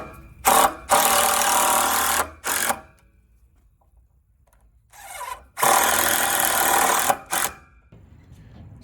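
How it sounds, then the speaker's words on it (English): A power drill drives screws into a wooden pallet board in two loud whirring bursts, each broken into short runs with brief stops, separated by a quiet stretch of low background noise. "I'm going to put screws in it to hold the wire down"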